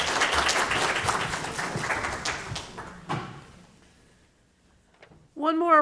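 An audience at a talk on Vietnamese American food gardens applauds the speaker, a full burst of clapping that tapers off and falls almost silent before a voice starts speaking at the end.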